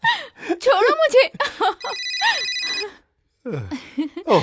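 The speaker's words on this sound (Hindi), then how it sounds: "ओह, प्लम्बर का फोन है।" Telephone ringing in a Hindi-dubbed horror film scene, a steady electronic ring tone sounding for about a second between stretches of speech, fairly loud and close, followed by a short silence and more talk.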